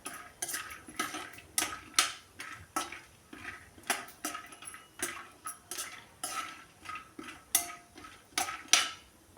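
Almonds roasting in ghee in a pan on low heat, stirred with a utensil that scrapes and clinks against the metal in a steady rhythm of repeated strokes, close and clear, with no talking.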